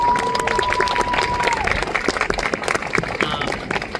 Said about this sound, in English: Let's clap for Ms. T